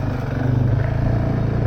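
A Honda CRF450X dirt bike engine drones steadily at close range on a motorsports park trail, a continuous low rumble with no talk.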